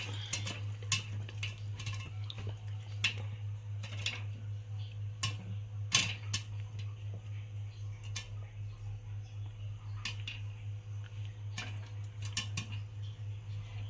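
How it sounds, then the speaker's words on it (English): Popcorn kernels popping in a pot on a stove: scattered sharp pops at an irregular, quickening rhythm, close and distinct over a steady low burner hum. "Now it's starting to pop."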